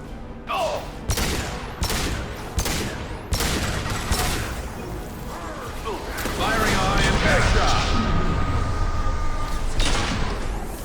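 Gunfire in a battle in the video game Mass Effect Legendary Edition, sharp repeated shots and booming bursts in an irregular rhythm, building into a dense sustained firefight, with voices calling out between shots.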